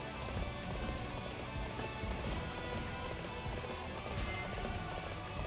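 Horse hooves gallop in Dynasty Warriors 8 Empires, a rapid, continuous drumming of clip-clops with a loud, dense battlefield wash behind them and no pauses.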